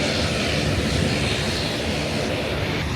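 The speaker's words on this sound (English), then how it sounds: "Airbus 320 Neo from SAS taking us to Arlanda this morning" SAS Airbus A320neo airliner, a steady, dense engine roar and cabin rush heard continuously at close range, with no talking.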